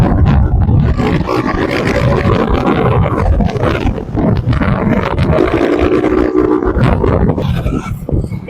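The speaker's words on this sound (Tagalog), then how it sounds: "Pinapakita na niya ako gano'ng kalakas ang motor niya." A motorcycle engine revs hard and loud right up close, a continuous rough roar that surges and holds for several seconds with no break.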